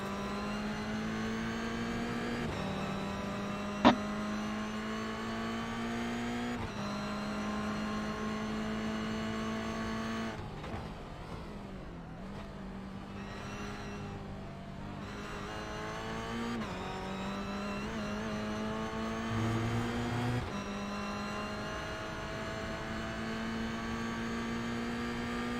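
Mazda Miata race cars lap the Zolder circuit during a 23-hour charity endurance race, their engines droning steadily at a distance with rising and falling revs as the cars pass, softer in the middle stretch, plus one brief sharp click.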